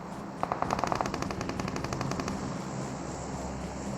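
Automatic gunfire in the mobile game PUBG Mobile: a rapid burst of about ten shots, then a quieter trailing rattle, heard at moderate distance over steady ambient game noise.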